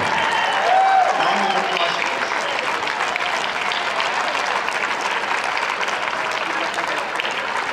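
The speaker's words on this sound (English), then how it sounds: "Round of applause." Sustained applause from an audience at an international men's ATP Challenger tennis championship in Chennai, a dense steady clapping that fills the whole stretch at even loudness with no voices over it.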